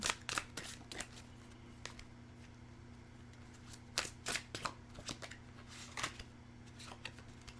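Tarot cards being shuffled by hand, a quiet series of riffling bursts and soft slaps in an irregular rhythm over a faint steady hum, no talking.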